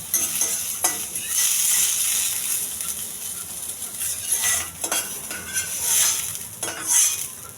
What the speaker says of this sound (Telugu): కొద్ది దోరగా వేయించాలండి.